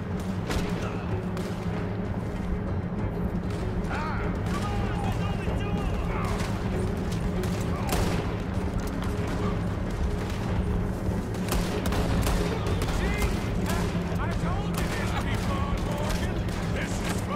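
Gunfire in a Red Dead Redemption 2 shootout, with repeated bangs and booming shots scattered through a dense, noisy battle and a steady rumble underneath.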